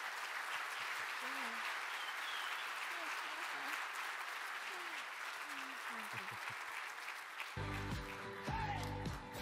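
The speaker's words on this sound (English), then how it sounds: "Give them a huge round of applause." Sustained audience applause closing a technical conference session on data workflows and bots, steady and fairly distant, with scattered voices over it before music comes in near the end.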